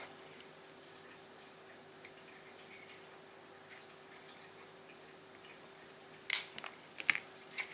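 Scissors cut folded paper tabs for a handmade envelope mini album, a few sharp, close snips near the end after a quiet stretch with light handling.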